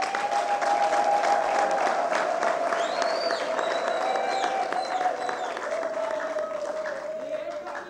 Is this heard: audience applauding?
yes